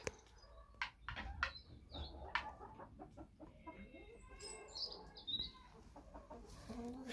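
Several hens cluck and squawk in irregular bursts, close by, with short sharp calls overlapping and no talking.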